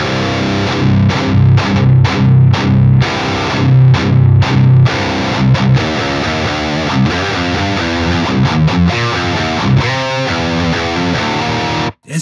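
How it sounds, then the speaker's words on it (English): Electric guitar played through a modern high gain tone with a touch of added fuzz distortion, loud chugged chords and stops giving way to faster picked riffs that cut off abruptly at the end. "It's just giving us like a touch of fuzz, and it's making that modern high gain tone a little more interesting"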